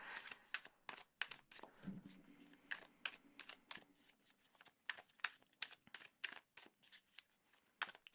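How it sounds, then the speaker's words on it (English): A deck of Lightseer's Tarot cards being shuffled by hand, a quick run of crisp riffling slaps and flutters repeating steadily at close range with no talking. "So, let's just shuffle your tarot deck."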